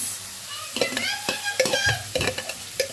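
Onion sautéing in a pot for an Egyptian okra stew, stirred to a light golden colour: soft scraping stir strokes and light sizzle, close up, with no talk.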